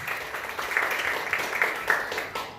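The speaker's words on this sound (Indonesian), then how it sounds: "Tepuk tangan buat Tuhan Yesus." A church congregation claps in a short burst of applause, fairly faint and somewhat distant, with a few louder claps standing out before it fades.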